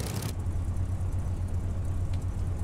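Spitfire engine in Microsoft Flight Simulator throttling up, a loud continuous low rumbling drone with a strong pulsing beat, close and alone.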